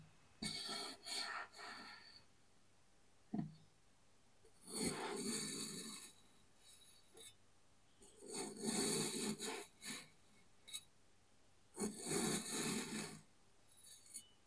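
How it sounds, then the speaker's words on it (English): Kinetic sand being sliced, heard as several soft, close scraping and rubbing strokes in separate bursts with quiet gaps between them. "a video of cutting kinetic sand is intensely satisfying and soothing"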